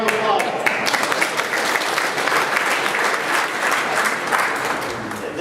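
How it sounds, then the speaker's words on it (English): An audience applauds a band conductor at an evening event, dense sustained clapping from a crowd filling the space, steady and fairly loud before fading slightly at the end. "Give a round of applause."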